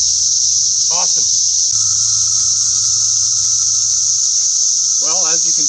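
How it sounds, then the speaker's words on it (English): A loud, constant high-pitched buzzing chorus of Brood X cicadas fills the air, with a couple of brief warbling chirps standing out over it. "the brood X cicadas are here"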